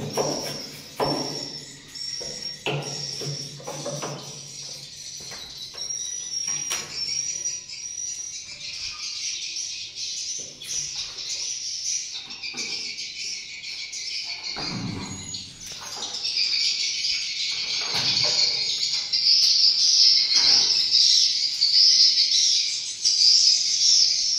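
Swiftlets rustle and call inside a swiftlet house during a nest harvest in an 8x12 m, three-floor building, giving a dense, steady chorus of high chirps and twittering that swells louder in the latter half.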